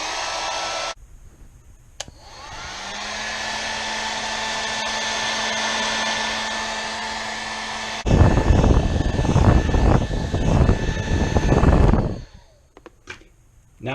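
A hair dryer switches on and whirs steadily, then on its high setting roars much louder with a rough, turbulent blast for several seconds before cutting off.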